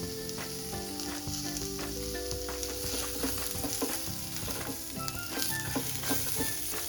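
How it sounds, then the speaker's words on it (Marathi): Ginger pieces roast in a pan while being stirred for a soybean curry, with a steady close sizzle and frying crackle throughout and occasional stirring scrapes, no voices. "आता आपण अद्रकचे तुकडे म्हणजे ह्याचे आल्याचे तुकडे पण आपण ह्यातच भाजून घ्यायचे"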